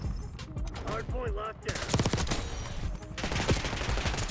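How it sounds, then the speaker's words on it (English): Rapid gunfire cracks in a Black Ops 6 match, including enemy sniper fire, as dense loud bursts of shots crowd the whole moment, with a player talking over the action. "There's a sniper shooting at me."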